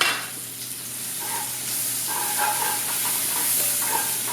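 Fennel seeds, onions and garlic fry steadily in a pan for a vegan Italian-style khichari, a continuous soft sizzle and hiss with light stirring scrapes, close and alone without talk.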